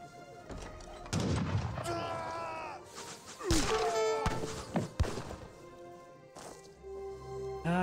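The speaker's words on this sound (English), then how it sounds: "I'm not sure what those shots I was hearing" Scattered gunshots from musket-armed units in the real-time strategy game Age of Empires 3, sharp thuds and cracks at irregular intervals, mixed with battle noise while a commentator talks throughout.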